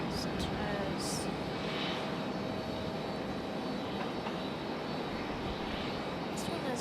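A jet airliner departs Raleigh-Durham airport with a continuous, fairly distant engine rumble, while a few faint clicks and brief voices come through beneath it.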